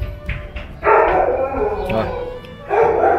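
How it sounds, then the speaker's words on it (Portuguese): Dogs bark nearby in a yard where a German Shepherd female is being socialised, a few loud barks and yips with a person speaking over them. "Os cachorros latiu ali, olha como é que ela já ficou."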